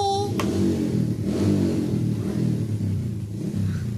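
A motorcycle engine revs steadily at close range, a continuous mid-pitched drone that rises and holds across the whole stretch, with no talk over it.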